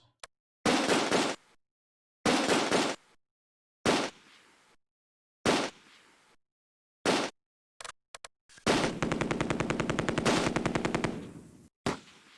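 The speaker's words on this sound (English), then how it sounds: "He's already shooting at something." Machine gun fire in the World War II strategy game Close Combat: A Bridge Too Far: several loud, short bursts separated by silent gaps, then a long sustained rattling stream of rapid shots.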